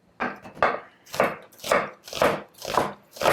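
Onion being coarsely chopped on a board for beef bulgogi with songi mushrooms: seven firm knife strikes in an even rhythm, close and crisp, with no talk over them.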